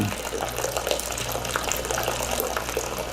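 Homebrew beer wort drains from the filtering grain husks into a bucket with a steady, continuous gushing trickle of liquid, close and unbroken throughout.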